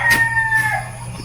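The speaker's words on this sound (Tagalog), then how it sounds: "May pangkut-kut sa manok." Chickens in a backyard garden give a short, close burst of loud calls, a couple of sharp clucking notes in quick succession with nothing else behind them.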